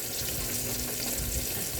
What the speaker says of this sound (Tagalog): Try po natin yung takpan para hindi tumalamsik ang ating chicken hanggang sa maluto po siya.